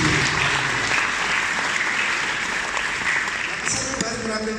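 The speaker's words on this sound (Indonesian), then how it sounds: "Berikan tepuk tangan untuk dirimu sendiri." A church congregation at a Sunday service applauds, a steady, dense wash of clapping that fills the room at even loudness throughout.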